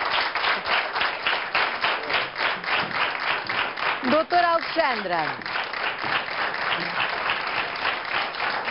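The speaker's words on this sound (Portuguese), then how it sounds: "Muito obrigada, uma salva de palmas" Studio audience applause on a Portuguese television health show, rhythmic clapping that runs throughout while a host speaks over it briefly in the middle.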